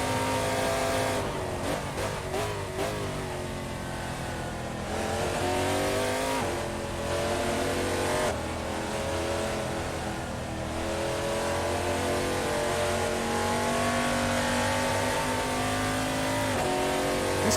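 A race car in an Assetto Corsa sim racing game on the Barcelona circuit revs hard and shifts through gears, its loud engine note climbing and dropping in repeated sweeps throughout, with no talk.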